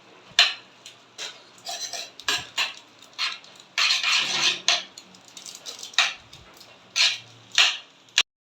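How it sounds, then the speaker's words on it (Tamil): A utensil stirs Maggi masala powder into noodles in a pan, with a quick series of scraping, clinking strokes against the metal, close and fairly loud with no talk. "இப்போ நம்ம இந்த மேகி பவுடர் போட்டுடலாம். போட்டுட்டு டக்குன்னு கிளறி விட்டுருங்க"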